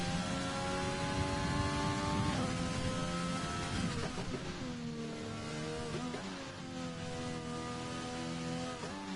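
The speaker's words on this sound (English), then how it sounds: "Starting his hot lap in the McLaren." McLaren Formula 1 car on a hot lap at the French track, its high-pitched engine screaming steadily through gear changes with rising and falling pitch sweeps, loud and continuous from on board.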